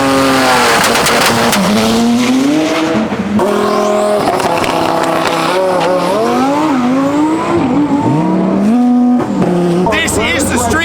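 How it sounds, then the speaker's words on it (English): Street-legal cars roar down a drag strip at TX2K 2025, engines revving hard through rising and falling gear changes with tire squeal, loud and close, while a voice talks over the noise. "So here we go, drag racing."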